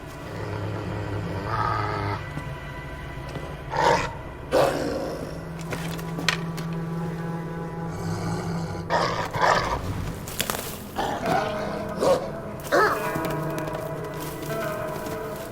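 Low growls and snarling barks from a pup in Assassin's Creed Valhalla, coming in short repeated bursts over a rumbling game background.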